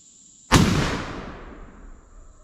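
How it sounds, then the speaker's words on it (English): A single loud gunshot from a chronograph velocity test, one sharp blast followed by a long decaying rumble and echo outdoors, with no talk. "we're going to shoot and see how this goes"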